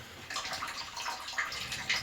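A faulty bathroom water tap that will not shut off runs steadily, a close hissing splash of flowing water with small irregular spurts and no talk.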